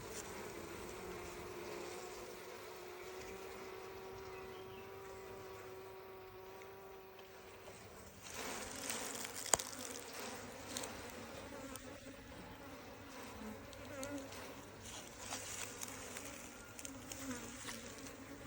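Honeybees at a hive hum in a steady, droning buzz that swells suddenly louder and busier partway through, with a few faint knocks among the swarm.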